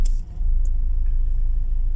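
Traffic on a highway toward Porac during a town fiesta rumbles low and steady, a close engine drone with a brief brighter swish of a passing vehicle near the start, no voices.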